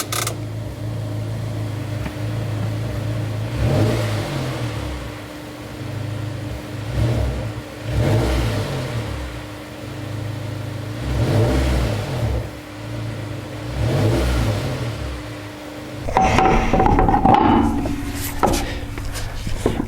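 A Honda S2000 engine, newly replaced, revs repeatedly in rhythmic bursts, idling roughly between throttle blips, with sputtering misfires audible near the end.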